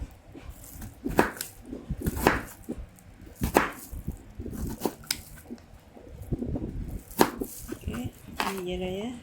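A sharp knife slices through raw sweet potato into thick pieces, a series of distinct crisp cuts and board knocks in an irregular rhythm, close up, with a voice speaking between cuts.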